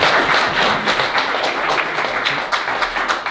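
A lunch-and-learn crowd gives a round of applause at a corporate wellness event, a steady dense patter of many hands clapping close and loud throughout, with no talk over it.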